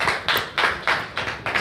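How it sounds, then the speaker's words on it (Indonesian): An audience applauds at a political discussion forum, a brief burst of clapping heard close and fairly loud, with overlapping hand strikes in an uneven rhythm. "Tepuk tangan untuk Pak Suhaili."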